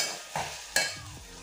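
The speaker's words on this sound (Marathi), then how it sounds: "तर कांदा आणि टोमॅटो मस्तपैकी झालेला आहे परतवून." Onion and tomato sautéing for egg bhurji, a quiet low sizzle broken by two sharp spatula scrapes against the pan.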